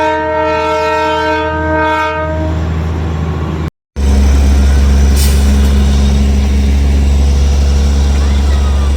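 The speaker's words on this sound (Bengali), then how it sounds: "আজকের জয় রাইডের সর্বশেষ ট্রেনটি আসার সময় হয়ে গিয়েছে" A horn blast from the Darjeeling toy train arriving at Batasia Loop: a loud, sustained harmonic note for about three seconds, then a brief gap and a heavy rumbling train and engine noise that continues strongly to the end.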